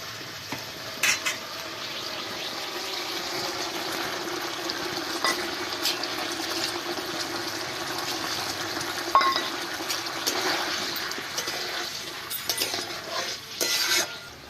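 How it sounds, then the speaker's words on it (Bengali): Mustard-poppy paste going into boiling fish curry gravy in a village kitchen, with a bubbling, watery sizzle under intermittent clinks and scrapes of a spoon against the pot, fairly close, with no talking. "এবার আমি সর্ষে পোস্তটা ঝোলটার মধ্যে দিয়ে দিচ্ছি"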